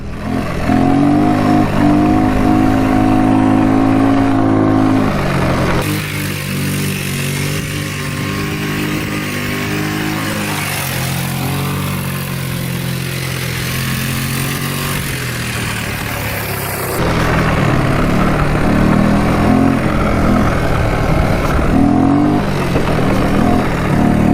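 A Yamaha Breeze mini quad rides through snow, its small engine revving loud and close, dropping to a lower drone in the middle before surging again, with no talk.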